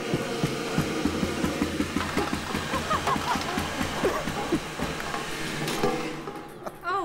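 Motors of a homemade ping pong ball shooter spin up to speed, giving a steady whirring hum with a faint rising whine and some clattering and handling noise.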